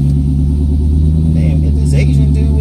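A loud car with a deep, steady engine rumble passes close by on a street, droning continuously throughout with a faint voice in the background.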